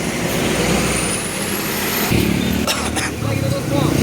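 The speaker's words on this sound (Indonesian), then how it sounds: "Mulai keluar nih bus-bus." Buses pull out of a night-time traffic jam on the Trans-Sumatra highway, backed up behind a truck with a broken rear axle: a steady, heavy engine rumble with hissing air-brake bursts. People talk over it.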